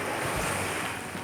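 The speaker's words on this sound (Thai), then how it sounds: "คลื่นก็แรงด้วยวันนี้" Strong ocean surf rolls in as a steady, dense wash of breaking waves, with wind buffeting the microphone at a beach on a rough day.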